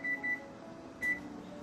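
Oven control panel beeping while the temperature is set for baking a Chicago-style pineapple pepperoni pizza: three short, clear electronic beeps, two in quick succession then one after a pause, over a low room hum.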